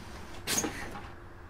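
A bus door opens in a driving simulator game after the engine is shut off and the parking brake set, a short pneumatic hiss and slide lasting about half a second against a quiet cab hum.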